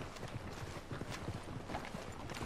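Horse hooves walking at a steady clip-clop in Red Dead Redemption 2, repeated soft thuds close by over a constant ambient bed, with no talk.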